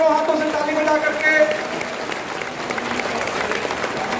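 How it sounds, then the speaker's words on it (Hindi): Audience applause at a ceremony during a grand yajna event in Buxar, a dense steady patter of many hands clapping, fairly loud and continuous throughout, with a voice briefly audible over it. "दोनों हाथों से ताली बजा करके"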